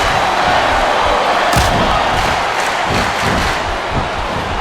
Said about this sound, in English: listen to that chant